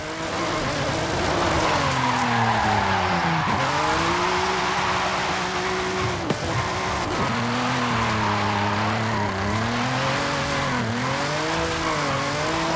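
Nissan GT-R with the VR38DETT engine drifting in Forza Horizon 5, its engine loud and close, pitch swooping up and down through revs and shifts, with tire squeal hissing underneath throughout.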